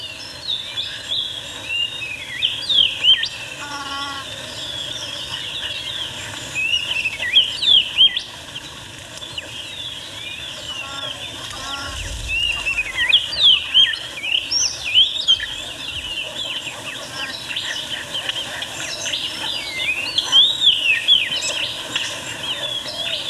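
A female bird calls to her chicks in a flooded forest, repeated chirps and tweets rising and falling against a steady insect-like hum, fairly close and continuous.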